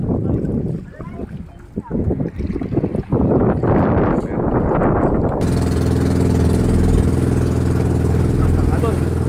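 Voices and handling noises at first, then a loud motorboat engine drones steadily with rushing wind and water, off an island in Pangasinan, Philippines.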